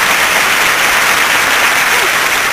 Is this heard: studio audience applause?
yes